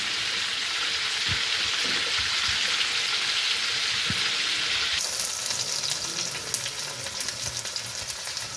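Spices sizzle steadily in hot oil over a raised flame while gola kabab masala is cooked, a dense, continuous crackling hiss with a few soft clinks of stirring, close and loud throughout.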